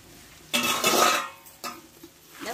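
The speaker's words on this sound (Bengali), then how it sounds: "ঢাকনাটা তুলে নেবো আমি।" A metal lid lifted off a cooking pot of kumror chakka on the stove gives a sharp clank, then a second lighter clink a second later, close by in a quiet kitchen.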